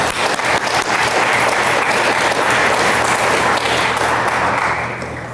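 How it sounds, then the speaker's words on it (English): An audience at a school board honors ceremony breaks into steady, loud applause for a high school volleyball team, the clapping sustained for several seconds before tapering off. "Will you give that team a round of applause?"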